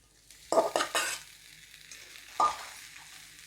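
A spoon scrapes and stirs lati vadi pieces into hot tempering in a pan with soft sizzling, the heat switched off, a few short stirring strokes followed by a quieter pause and one more stir.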